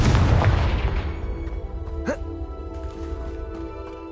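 A Confringo fire spell blasts in Hogwarts Legacy as a deep, loud boom with a burst of noise at the start, then a rumbling fade with a brief swooping zap partway through and a steady tonal drone underneath.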